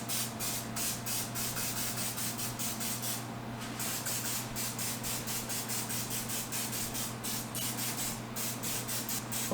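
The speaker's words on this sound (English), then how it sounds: "I got some of this spray olive oil." Olive oil spritzed from a spray can over peppers, garlic and onions before roasting: a long run of short, quiet, evenly repeated hissing bursts.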